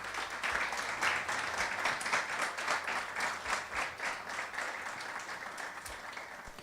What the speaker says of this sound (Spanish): pido un aplauso para la familia